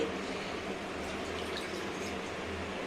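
Ragi semiya being rinsed in a vessel of water gives a soft, steady sloshing and trickling wash, faint and continuous, with no talking.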